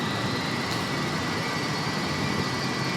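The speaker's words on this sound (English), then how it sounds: "Bristol Olympus engines, which eventually became Rolls-Royce Olympus engines" Avro Vulcan jet engines, four Bristol Olympus turbojets, roar in a flight simulator cockpit as a loud, steady broadband rush with a high whine on top, continuous and alone without talk.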